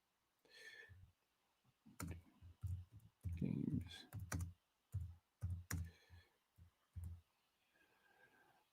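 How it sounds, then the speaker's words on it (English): Typing on a computer keyboard, irregular bursts of sharp key clicks spread over several seconds and separated by short pauses, close and fairly quiet. "I'm just doing some typing here."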